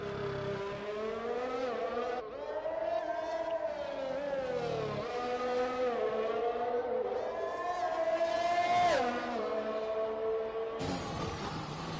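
F1 race car engines in a racing video game scream at high pitch around the Singapore circuit, rising and falling with gear changes and a sharp cut near the end, steady and prominent with no audible talk.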